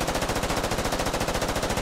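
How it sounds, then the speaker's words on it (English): Medium machine gun in the tactical shooter Squad firing a rapid, evenly spaced burst of about twenty rounds, loud and close, with no voices over it. "a medium machine gun"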